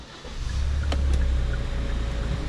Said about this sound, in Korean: 시동을 걸고